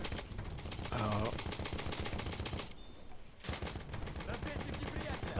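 Battlefield 1 machine gun fire on the Tsaritsyn map rattles in rapid, continuous bursts, dense and loud, pausing briefly near the middle before resuming.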